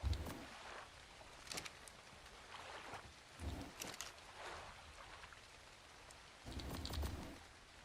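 Steady rainfall in the survival game ARK: Survival Ascended, a soft continuous wash of drops on surfaces, fairly quiet, with a few brief louder bursts of other game sounds standing out.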